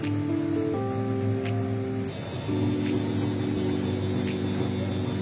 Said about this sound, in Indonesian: ini cara berputar pengeringnya, suaranya juga seperti ini